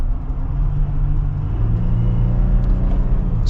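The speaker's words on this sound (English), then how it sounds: "super smooth with the gear shifts. I love this 8-speed automatic in the Wrangler." A 2022 Jeep Wrangler Rubicon accelerates with its 8-speed automatic, giving a loud, close engine drone that dips and rises slightly partway through as a gear change comes in, with no voices.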